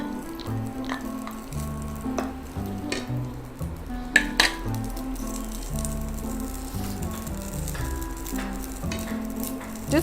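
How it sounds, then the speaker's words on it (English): Pasta frying in a little hot oil in a pan for a mixed sauce dish, a steady sizzle with rattling and stirring scrapes over a constant low cooking hum, with a sharp clatter near the middle. "As the oil heats up a little, we are going to add our pasta."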